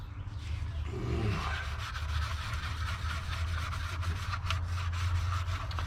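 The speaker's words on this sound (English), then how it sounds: "This rough, you gotta keep rubbing." Rust is rubbed by hand off the metal of an abandoned 1962 Ford Falcon or 1967 Galaxie, a steady close scrubbing and rubbing that carries on throughout.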